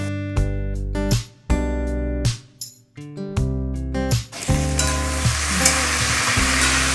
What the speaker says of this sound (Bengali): দিয়ে এবার ভালো করে আলুগুলো নেড়ে দেবো তেলে।